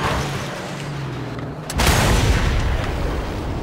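A car explodes in the Mad Max video game: after a low steady rumble, a sudden broad blast erupts and leaves a loud, sustained roaring wash.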